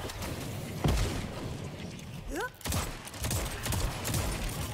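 Bombs dropping and bursting in the video game Crucible, a run of heavy booming blasts close up, rolling one into the next over a steady rumble of game noise.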